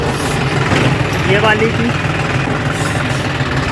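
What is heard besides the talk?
combine harvester engine running during rice harvest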